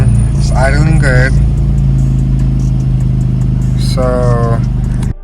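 A 10th-gen Honda Civic Si running E85 through a flex fuel kit idles in a steady, close, continuous hum, with someone talking over it at two points before the sound cuts off near the end.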